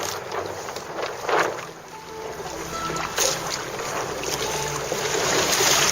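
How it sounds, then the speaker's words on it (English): Wind blowing across open water while a canoe is paddled, a steady rushing wind noise buffeting the microphone with gusts that swell and ease, close and continuous throughout. "The wind has started coming up a little bit"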